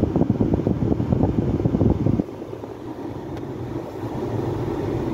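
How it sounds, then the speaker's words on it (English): Air conditioning fan in a Renault Sandero blowing with a steady broadband rush inside the cabin, louder at first, then dropping to a softer, even whoosh partway through. "Aircon is kicking in and I can already feel the coolness"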